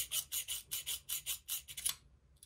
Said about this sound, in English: I'll start my little hole by just turning my drill bit